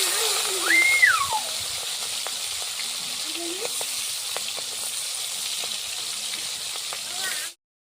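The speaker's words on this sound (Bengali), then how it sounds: "এবার মাছগুলোকে ভালোভাবে ভেজে নিব।" Shrimp frying in hot oil in a wok, a soft continuous sizzle and hiss with faint clinks and scraping, sustained and steady before stopping abruptly.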